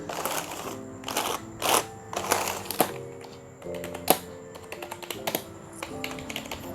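Rapid typing on an NYK KR 301 RGB keyboard with a metal plate, crisp clacking keystrokes in irregular bursts with a few louder taps, recorded close and without talk.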